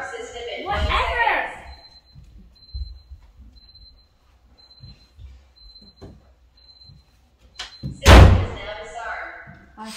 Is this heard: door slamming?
yes